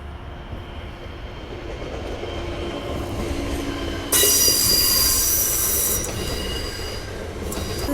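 A train rumbles past very close at Warszawa Zachodnia station, wheels grinding on the rails, and a sharp high squeal suddenly joins the roar midway.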